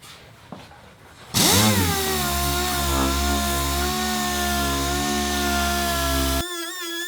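A dual-action sander works body filler with 240-grit paper on a rusted Nova rocker panel, running as a loud, steady whine for about five seconds after starting up, then shutting off abruptly.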